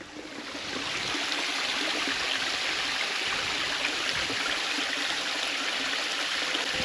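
Water flows and trickles steadily in a nearly full garden pond, a dense, broad wash of splashing that swells within the first second and then stays loud and even, close by, with no voices.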